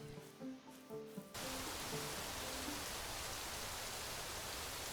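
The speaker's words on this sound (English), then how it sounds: "It's raining once again" Steady rain pours in the survival game Rising World, a dense, even hiss that swells in after a brief stretch of soft tonal background and then holds constant and fairly loud to the end.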